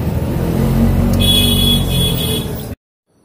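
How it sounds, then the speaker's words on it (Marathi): An auto rickshaw on the road from Devgad to Kunkeshwar in the Konkan drones with a steady, close engine buzz and road rumble that cuts off abruptly near the end. "तर आता रिक्षाने निघालो कुणकेश्वरला"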